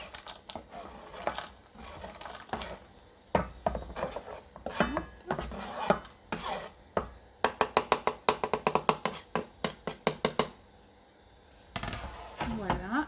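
Chocolate chips are poured into cookie dough and stirred in a bowl, giving a string of quick clicks, taps and scrapes that turn into a fast rattling run, with faint talk in between.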